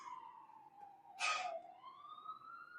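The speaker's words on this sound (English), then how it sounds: "there's always sirens, right?" An emergency vehicle siren wails faintly in the distance of a small town, a steady rising and falling tone over a few seconds with a brief burst of noise partway through.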